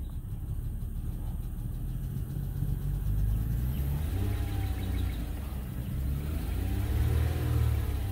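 The engine of a 2003 Lexus ES300 with a no-power fault revs as the gas pedal is pressed, a low rumbling drone that rises and falls, heard from inside the car.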